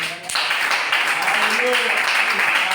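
A church congregation breaks into steady applause for about three seconds, a dense wash of clapping close and loud, mixed with voices calling out.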